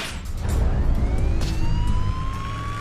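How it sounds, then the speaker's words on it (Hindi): A siren in a Hindi-dubbed episode of the animated series Transformers: Robots in Disguise wails loudly and continuously, its rising tones sweeping over a rumbling vehicle engine throughout. "तुम अपना सायरन बंद क्यों नहीं करते?"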